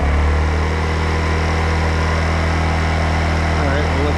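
A Champion 2500 dual fuel inverter generator runs steadily at raised speed, a constant loud engine drone with a low hum and no breaks, alone without talk.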